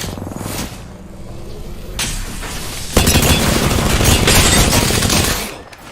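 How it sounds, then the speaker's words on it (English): Video game gunfire crackles in a dense, loud stream, starting sparse and building into a sustained fusillade of rapid shots that fades at the very end. "I'm taking fire, friends."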